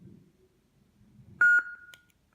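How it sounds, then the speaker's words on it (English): A single loud electronic beep from a Master Replicas Darth Vader FX lightsaber changing sound font, with a bright tonal ring, briefly sustained then decaying, following a quiet stretch of low rumble. "Here, a second beep."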